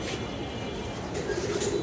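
Pigeons in a Lalbagh pigeon loft give a soft, low cooing call, faint and close, with a little background noise from the loft.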